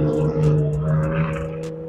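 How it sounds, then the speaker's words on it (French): Porsche cars lapping the Maison Blanche race circuit at a large car gathering, a steady droning engine hum with a strong low tone held throughout, distant and continuous with no talk. "il y a quelques Porsche qui tournent là-bas sur le circuit Maison Blanche"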